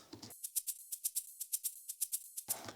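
A house drum groove built from sampled ride and shakers, with crisp bright ticks in a steady fast pattern, fairly quiet and alone, framed by brief fuller sections at start and end.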